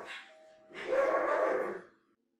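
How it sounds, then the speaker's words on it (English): A dog barks in the background, a short yip followed by a longer, fuller bark at moderate volume, then silence. "especially when the dogs are barking and they're barking uncontrollably"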